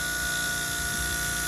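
Battery-powered vacuum pump running steadily while evacuating a manifold, a continuous even motor hum with a whiny high-pitched tone, close and unbroken, no voices.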